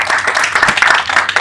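An audience at a Gabonese National Women's Day event claps in a brief, dense burst of applause, fairly close and lively throughout.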